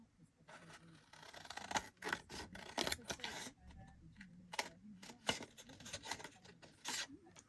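Big scissors cutting through paper for a handmade junk journal, a run of rasping snips and crinkly rustles that come in irregular bursts, close and fairly quiet.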